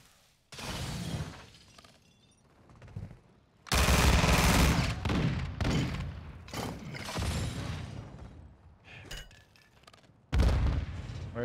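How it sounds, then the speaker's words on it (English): Dual machine pistols in Call of Duty Modern Warfare II fire in long, dense bursts, loud and close, with pauses between volleys and crackling impacts. "I'm gonna run with these dual machine pistols"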